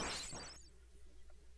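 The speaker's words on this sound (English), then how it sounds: "Breaking the glass." Glass shatters in the Shovel Knight video game, a faint burst of crashing shards in the first half-second that quickly fades into a low background hum.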